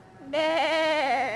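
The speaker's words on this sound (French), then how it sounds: "Jolie petite brebis." A small ewe lets out one loud, quavering bleat at close range, with a brief quiet moment before it.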